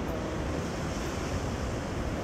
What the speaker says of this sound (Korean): 파도가 잔잔하니 너무 좋다.